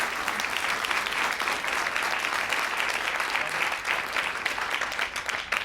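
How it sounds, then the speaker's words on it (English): Audience at an industry and partner day event gives a steady, sustained round of applause for the day's speakers, dense clapping filling the room with no voices over it. "let's go ahead and give a round of applause"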